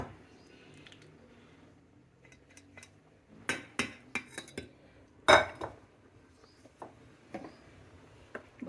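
A spoon stirs mashed chana dal into cooked bottle gourd in a pot, making intermittent metallic scrapes, taps and clinks against the vessel, fairly close and quiet between strokes.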